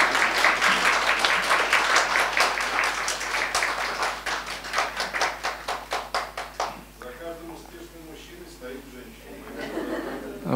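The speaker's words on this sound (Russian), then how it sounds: "может быть, похлопаем ей?" An audience at a book presentation breaks into loud, dense applause, claps gradually thinning and slowing into scattered individual claps, with some chuckling and voices mixed in.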